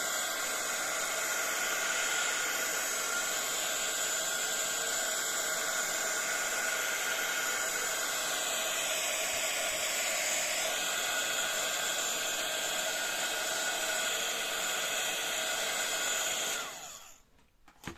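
Hair dryer blowing steadily on an inkjet print on tissue paper, a loud, continuous close whoosh that lasts nearly the whole time before switching off near the end.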